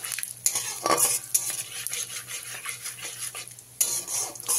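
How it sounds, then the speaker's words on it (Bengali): Pumpkin frying and being stirred in a pan with panch phoron, whole cumin, bay leaves and a pinch of hing, a steady close sizzle broken by repeated scraping clinks of a spoon against the metal. "দিয়ে ভালো করে একটু ভাজা ভাজা করে নিতে হবে।"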